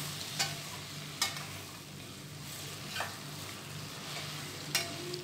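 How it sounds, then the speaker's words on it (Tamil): Mixed vegetables sautéing in oil for vegetable biryani, a quiet continuous sizzle broken by four widely spaced spatula scrapes against the pan. "இப்போ வெஜிடபிள்ஸும் போட்டு நல்லா வதக்கி விட்டுடலாம்."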